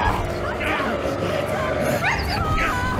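A dog barks in the video game Metro Exodus, with several sharp yelps and whimpers over a dense bed of background noise and voices.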